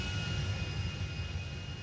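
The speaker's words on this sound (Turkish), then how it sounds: "Ya şaka gibi uçak bana çarptı" Aircraft engine roar in the video game GTA V as an airplane crashes into a supercar on a stunt race track, a steady, loud, dense rumble throughout.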